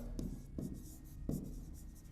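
Writing by hand during an English grammar lesson, a few soft scratchy pen or chalk strokes in short bursts, heard alone and quietly.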